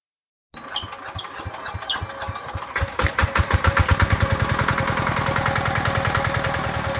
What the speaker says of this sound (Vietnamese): Quay cho mấy em nghe tiếng máy của nó